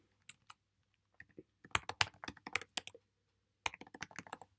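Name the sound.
typing credentials on a computer keyboard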